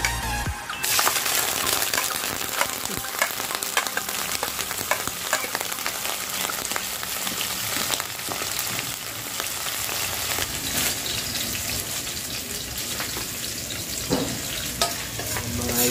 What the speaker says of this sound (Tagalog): Ngayon mga idol, magigisa na tayo ng ating baka. Lagyan lang tayo ng kunting mantika.